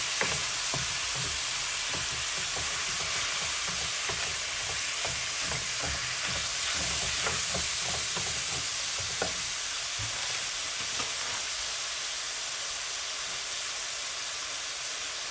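Ground beef fries in a hot pan with a steady, loud sizzle and hiss, broken by occasional scraping stirs, with no talking.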